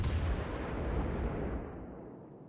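Heavy naval guns of a Haarlem-class warship fire in World of Warships Legends, a loud booming blast rolling into a long rumbling decay.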